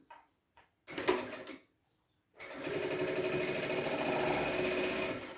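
A sewing machine stitches along the edge of a 29 by 20 cm wallet, a short burst of rapid stitching, a pause, then a longer steady run, close and clear with no talk.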